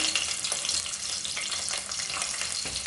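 Garlic fries in hot oil for a Chettinad mutton head curry, a close, steady crackling sizzle with small pops that continues evenly with no voices over it.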